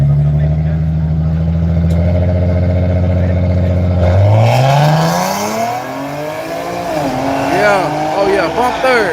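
A drag racing car's engine roars at high revs at a night dragstrip, then drops in pitch as it shifts into third and climbs again, with voices talking over it.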